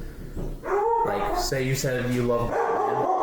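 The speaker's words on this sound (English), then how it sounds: "Sorry, that was my dog." A pet dog yips and howls indoors in short, whining bursts, heard close and loud while a person talks over it.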